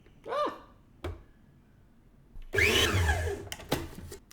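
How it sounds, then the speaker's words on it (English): A food processor pulses flour mixture with butter in short, loud whirring bursts: a brief buzz, a quick jolt, then a longer churning grind and another short pulse, with quiet gaps between. "add the flour mixture and pulse until the butter is no larger than small peas"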